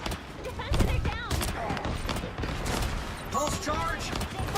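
Pulse cannons fire in a video game as a rapid, dense run of loud energy-weapon blasts and booms, with a player talking over the barrage.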